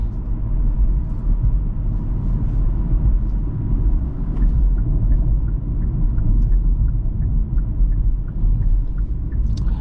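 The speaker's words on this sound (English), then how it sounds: "Get a little tire noise, bump noise as well." Steady low road rumble and tire noise from a moving 2024 Kia Forte LXS, constant and close, with faint occasional bumps and no talking.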